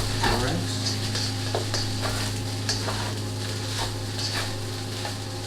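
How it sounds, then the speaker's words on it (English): Fried rice with green onion sizzles and is tossed and stirred in a hot pan, a steady fry hiss under repeated scraping and tossing strokes at close range. "Give the rice a quick toss. Toss that green onion into the rice."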